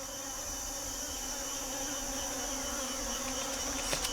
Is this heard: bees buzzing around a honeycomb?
yes